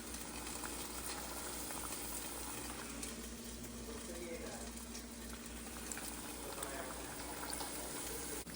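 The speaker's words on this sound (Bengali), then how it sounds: "এই পাশে আস্তে আস্তে তালের ফুলুরিগুলো ছেঁকে নিচ্ছে।" Palm fritters deep-frying in oil for a Diwali and Kali Puja pitha feast give a steady, dense bubbling sizzle that runs unbroken at a moderate, even level, with a faint hum beneath.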